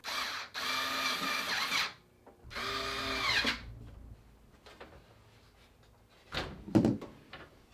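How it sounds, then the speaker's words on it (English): A small drill whirs in two short bursts, driving screws into a propane oven, followed by a couple of clunks and knocks from the work nearby. "Using Jack's little drill here"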